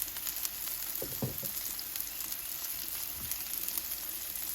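Bread sizzles steadily on a hot Blackstone flat-top griddle for a Philly cheese steak, a dense, even hiss with a few soft scraping taps, close and continuous with no talking.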